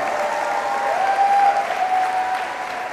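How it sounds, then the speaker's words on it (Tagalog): A church congregation claps together at a Sunday service, a steady dense wash of applause filling the room throughout, with a faint sustained tone running beneath it. "ganyan ba pumalakpak ang mga hostage na nakalaya?"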